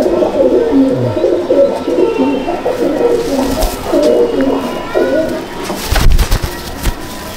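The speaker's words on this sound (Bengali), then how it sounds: "এটা হচ্ছে লালসিরা পায়রা" Red-headed pigeons cooing in a loft, a steady chorus of overlapping low coos repeating throughout, fairly close, with a brief louder thump near the end.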